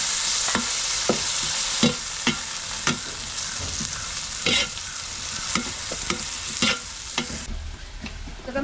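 Tomatoes fry in a pan for Kerala-style kappa biriyani, a constant loud sizzle overlaid with repeated scraping and clacking strokes of a spoon stirring at an irregular pace, with no voices.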